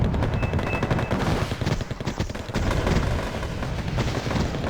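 Rapid, continuous gunfire and booming shots from tanks in the strategy video game Wargame, featuring Abrams and T-55/T-64A armor, dense and loud throughout with a thin electronic tone early on.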